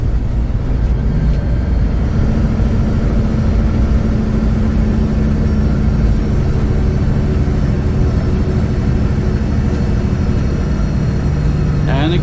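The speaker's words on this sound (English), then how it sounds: "I'm going to keep the revs up here and change to 17 now." A heavy truck with an 18-speed Road Ranger gearbox drones loudly and continuously from inside the cab, its engine held high in the revs through a downshift, with steady low rumble and road noise throughout.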